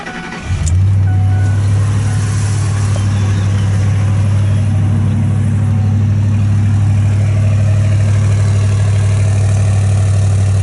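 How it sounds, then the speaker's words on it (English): A car starts up and settles into a deep, steady idle with a throaty aftermarket exhaust rumble, loud and close, without voices. "Everyone loves the aftermarket exhaust on this thing."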